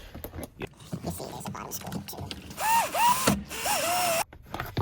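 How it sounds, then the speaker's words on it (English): A power drill drives screws into a panel of a 2003 Ford F-150 XL during a multifunction switch replacement, with a couple of short rising whirs close by, set among handling clicks and someone talking. "We're gonna go ahead and screw these 2 screws on."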